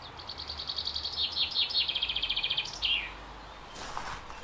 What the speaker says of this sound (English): That's a chaffinch.